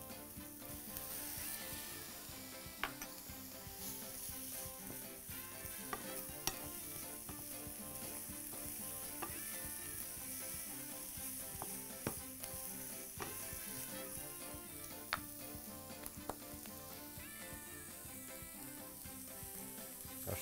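Chicken frying in a pan for a barbecue sandwich, a quiet steady sizzle with small crackles and a few sharp pops and clicks throughout, no voices.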